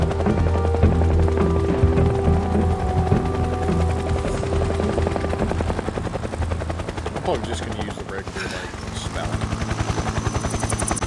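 Helicopters in the video game Metal Gear Solid 3: Snake Eater give off a loud, steady rotor chop that throbs rhythmically and thickens toward the end, with voices beneath.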